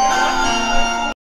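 A school bell rings as a single sustained metallic tone for about a second and then cuts off abruptly into silence.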